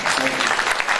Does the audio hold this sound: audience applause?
yes